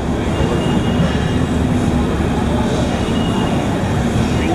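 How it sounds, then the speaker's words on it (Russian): A San Francisco streetcar being turned around gives a continuous loud rail rumble with wheel and track noise, heard close and unbroken throughout. "Но это наш трамвай развернули."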